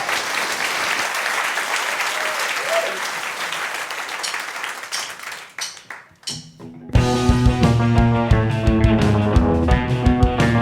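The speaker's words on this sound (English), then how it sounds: "Please give them all a big round of applause." A live radio show audience applauds the crew with loud, continuous clapping and a few cheers. It thins out near the end and gives way to a band starting to play.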